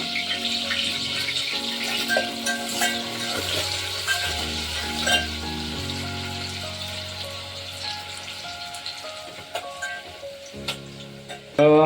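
Curry leaves, green chili and onion dropped into hot oil for a Konkan-style crab curry, giving a moderate continuous sizzle with occasional clinks of utensils, partly masked by music.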